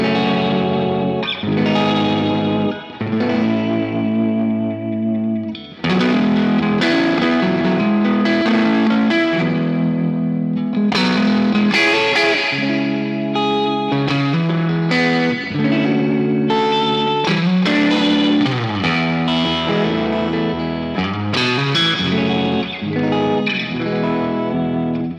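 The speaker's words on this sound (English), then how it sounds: "So that reverb is lovely." Electric guitar played through a Catalinbread Topanga Burnside spring reverb pedal, all knobs at noon with the tremolo off: ringing chords and single notes bloom into a wide, splashy reverb tail that hangs between phrases.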